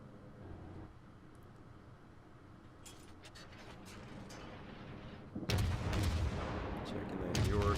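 HE shells fired from the guns of a Pensacola cruiser in World of Warships, low distant booms and mechanical clanks building to a loud, rumbling salvo near the end.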